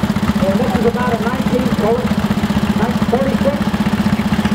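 A 2-cylinder Kohler engine on a 1946 tractor at a tractor parade idles with a steady, loping low thump that holds for the whole stretch while people talk over it.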